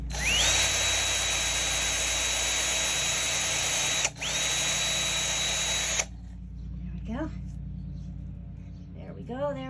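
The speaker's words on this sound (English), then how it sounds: "there's the PVC pipe right here, and I'm just gonna drill another hole in here because it needs it." A power drill bores a hole in PVC pipe during greenhouse work for an herb garden, running loud and steady for about six seconds with a brief dip midway, then stopping as faint speech follows.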